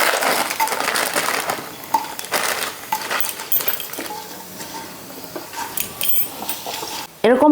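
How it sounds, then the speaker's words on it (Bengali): A packet of Maggi noodles is tipped into a pan with dry fruits and stirred, producing crunchy crushing and scraping, clinks of a utensil on metal, and a sharp clatter near the end. "এবার দিয়ে দেব 1 প্যাকেট ম্যাগি।"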